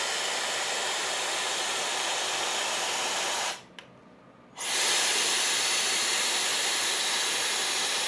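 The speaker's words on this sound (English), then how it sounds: "once you turn it off, it actually comes back on for several seconds and blows cool air in sort of a cooling and cleaning process" An OlyLife Vitality Wand blows cool air after being switched off, a steady close-up airy hiss that cuts out for about a second and then resumes just as strongly.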